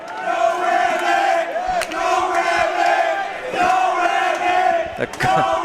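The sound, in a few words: MMA fight crowd cheering for Rabbit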